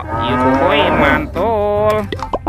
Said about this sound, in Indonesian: Yang ini ada sapi mo.